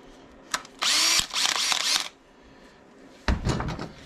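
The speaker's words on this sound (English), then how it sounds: "drill a hole in the center of it." A power drill whirs in two bursts, high and loud, with brief clicks between them and a final short spin-up near the end.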